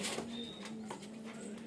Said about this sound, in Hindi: आज आपको शौक कराएंगे कुछ कबूतरों का जो नर हैं